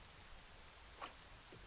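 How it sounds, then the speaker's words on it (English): Quiet, even hiss of rain falling in a Zelda Ocarina of Time randomizer game, a faint continuous patter with a couple of soft brief blips. "Why does it have to be raining?"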